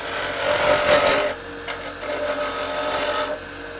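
A woodturning tool takes a peeling cut on a spinning blank for a pencil holder on the lathe, giving a close, hissing, scraping sound in bursts with short pauses between cuts.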